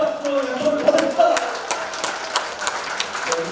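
An audience at a Rotary membership training session in Goyang, Korea, breaks into sustained clapping that grows into a dense, lively patter after a voice trails off at the start.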